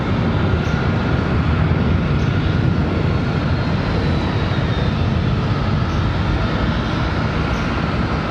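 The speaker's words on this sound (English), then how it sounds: "CRJ departure, which you guys are hearing right now." A CRJ regional jet departing Charlotte Douglas International Airport roars as a loud, steady engine rumble that fills the whole stretch without letup and without voices.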